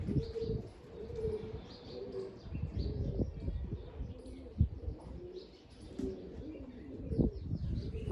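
Pigeons on a rooftop coo softly and chirp at a moderate distance, with a few wing flaps and no talk.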